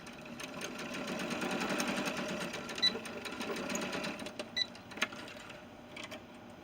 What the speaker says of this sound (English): I'm just going to go ahead and sew that together with a 1/4 inch seam and back tack at both ends.